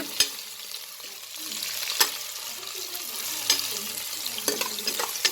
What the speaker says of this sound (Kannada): ಎಲ್ಲನೂ ಈಗ ಸ್ವಲ್ಪ ಚೆನ್ನಾಗಿ ಫ್ರೈ ಮಾಡ್ಕೊಳ್ಳೋಣ